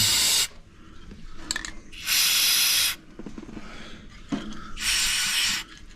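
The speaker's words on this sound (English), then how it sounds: "Spray the spring." An aerosol spray can hisses onto a spring on a John Deere 555G track loader dozer in three long bursts of nearly a second each, close and loud, with quieter handling noises between them.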